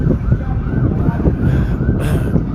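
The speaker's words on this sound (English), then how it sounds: "Hear sirens nonstop." Sirens wail in the distance over loud, rumbling street noise and passing traffic in Washington, DC.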